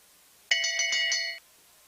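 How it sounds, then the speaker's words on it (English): A bell rings for the final lap of a men's 3,000 m long track speed skating race, struck about six times in a quick, even burst of bright metallic tones, clear and close with no talking. "Both competitors hear the bell lap."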